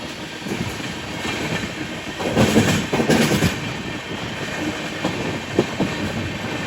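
The Bengaluru–Tirupati Intercity SF Express 22618 runs on rails, a steady close rumble of wheels with rhythmic clicks and a louder swell of clatter midway.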